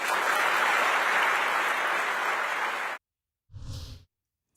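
A Republican audience applauds a Liz Cheney speech in a sustained, even round of clapping for about three seconds that cuts off abruptly, followed by a brief muffled burst of sound.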